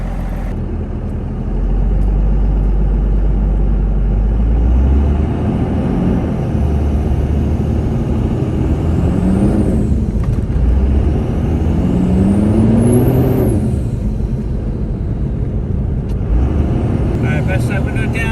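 Cummins diesel truck driving off cold, without warm-up, fitted with a GXP intake horn and boost elbow; steady engine drone runs throughout with rising and falling pitch as it accelerates through gears, close and continuous.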